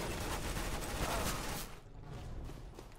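Counter-Strike: Global Offensive gunfire in an arms race match: a dense burst of rapid shots, loud at first, then a short dip before sparser firing returns.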